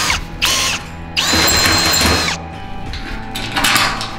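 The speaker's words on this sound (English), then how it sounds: "Oh, you got to drill one out." A power drill whines in bursts, spinning up and cutting with grinding, ratcheting noise while enlarging a bolt hole in a used steel drum barrel, then pausing before starting again.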